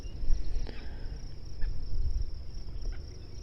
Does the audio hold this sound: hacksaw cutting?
no